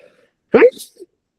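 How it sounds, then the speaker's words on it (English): A single sharp sneeze bursts out close to the microphone during a quiet pause, brief and forceful, followed by a softer trailing breath. "Excuse me, I might sneeze here."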